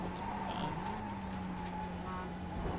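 A Mazda race car brakes into a turn on a track, its engine heard from inside as a steady droning tone that shifts slightly in pitch, with a faint tire squeal and road noise.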